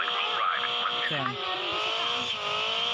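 Car driving in the video game Call of Duty: a steady engine drone with a pitch that sweeps up and down as it revs, continuous under talking voices.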